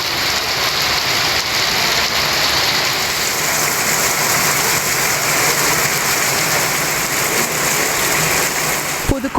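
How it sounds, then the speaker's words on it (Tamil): Heavy rain pours steadily in Pudukkottai, a dense, continuous broadband hiss of water hitting surfaces that holds loud and even throughout. "புதுக்கோட்டையில் 1/2 மணி நேரத்திற்கும் மேலாக பெய்த கனமழையால் குளிர்ச்சியான சூழல் நிலவியது"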